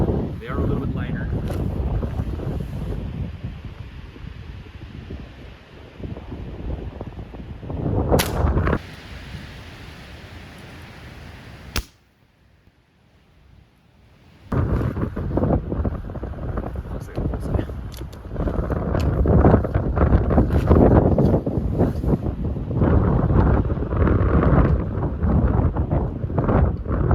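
Heavy outdoor wind buffets the microphone in a steady roar, cutting out briefly near the middle before returning just as strong, with faint voices beneath.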